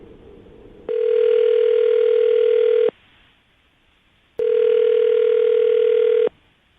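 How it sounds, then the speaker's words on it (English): Telephone dial tone sounding in two loud, steady bursts of about two seconds each, separated by a short quiet gap, clear and close with no talk. "I'm going to dial the phone number right now and get her on the phone"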